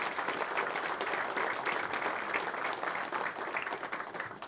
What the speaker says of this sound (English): please, a round of applause, a first round of applause for all our inductees